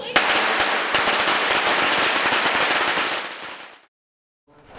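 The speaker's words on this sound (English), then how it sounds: "that rapid fire crackling and popping, one of the hallmarks of the Lunar New Year celebrations" Lunar New Year firecrackers in San Francisco going off in a loud, dense rapid-fire string of crackling pops for about three seconds, cutting to silence before a faint new burst starts.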